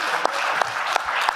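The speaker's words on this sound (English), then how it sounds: "give him a round of applause for that, guys" A small audience claps steadily for the all-time leading Saints receiver, a brief, even round of close applause.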